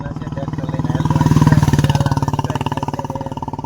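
A tractor engine chugs close by in a fast, even rhythm of pulses, swelling slightly louder midway before settling back.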